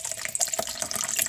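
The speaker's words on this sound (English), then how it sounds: "I'm going to take a cup, I'm going to pour some water into it." Water pours into a cup while making butter slime, a close, bright splashing trickle that runs continuously for just over a second.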